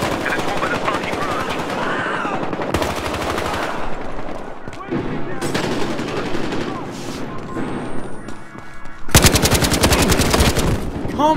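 Loud bursts of automatic gunfire ring out in a Battlefield Hardline multiplayer match, rapid sustained volleys broken by short gaps, with a final heavy burst near the end and a voice talking underneath at times.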